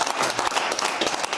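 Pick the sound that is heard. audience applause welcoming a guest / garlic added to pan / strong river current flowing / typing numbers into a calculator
audience applause welcoming a guest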